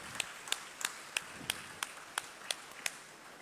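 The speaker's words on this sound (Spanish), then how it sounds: "Dale un aplauso al Señor." A church congregation claps in a slow, even beat, roughly three sharp claps per second, sounding thin and somewhat distant rather than like a full ovation.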